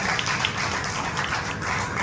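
Audience applause for the producers of the Marathi film Ek Don Tin Char, a dense, steady wash of many hands clapping with no individual claps standing out, filling the room evenly throughout.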